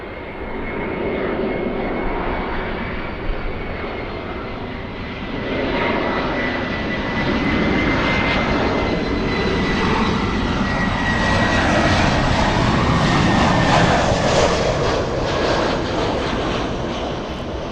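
Airliner engines roar at Los Angeles International Airport (LAX), a loud, sustained jet rumble that swells and holds as a plane passes close by, with no talk over it.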